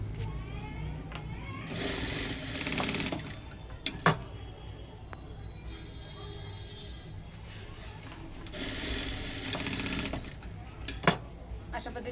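A sewing machine stitches cross strips of fabric for a blouse, running in two short mechanical bursts separated by quieter handling sounds and brief metallic clicks.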